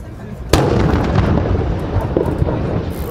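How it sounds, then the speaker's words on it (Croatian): Fireworks rockets burst over Rijeka during a torch procession marking Croatian Victory Day and the anniversary of Operation Storm, a sudden loud bang followed by a dense, continuous crackling rumble of close explosions. "uz baklje riječko nebo obasjali rakete"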